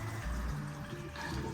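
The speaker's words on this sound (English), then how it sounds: "That's running away lovely, and then we'll give that a little flush there." Water flushes steadily through a newly installed washout basin during plumbing second-fix testing, a continuous rushing and gurgling flow with no pauses.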